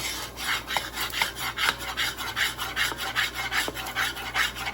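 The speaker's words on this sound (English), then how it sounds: "But you gotta have a good metal stainless spoon and keep scraping." A stainless steel spoon scraping the bottom of a pot of gumbo roux, rhythmic back-and-forth strokes about twice a second, close and fairly loud, with no voices.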